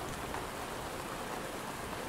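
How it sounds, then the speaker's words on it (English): Gentle, steady rain patters on forest treetops, a soft continuous hiss of drops on leaves that stays even and unbroken throughout, with no voices or other sounds. "Gentle rain hits the treetops and envelops everything"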